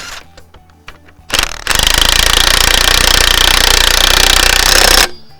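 A power tool drives an AL-KO axle stub pin to its tightening torque: after a short burst, a loud, fast hammering rattle runs steadily for about three and a half seconds, then stops abruptly.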